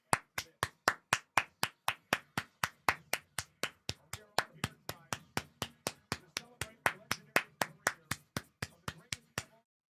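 Hand claps during live wrestling commentary, evenly paced at roughly four per second, crisp and close, running for about ten seconds before stopping, with a faint murmur beneath.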